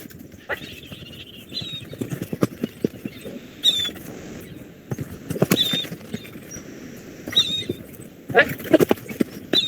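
A horse moves on its own to a female trainer's sound cues, with hooves clip-clopping in an irregular patter, occasional whinnies and short sharp calls, and a person's voice heard intermittently.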